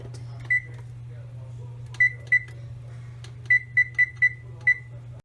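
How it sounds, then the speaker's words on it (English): Oven control panel on a kitchen range beeping as it is switched on: a series of short, clear electronic beeps, one early, two close together mid-way, then a quick run of four and a final one, over a steady low hum. "So I'm going to actually turn the oven on, because I'm going to bake something good."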